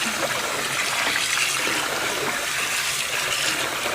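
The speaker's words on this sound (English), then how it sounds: "I'm going to rinse these suckers up" Running water splashes steadily while washed wool is rinsed, a close, continuous wash of trickling and splattering with no pauses and no voices.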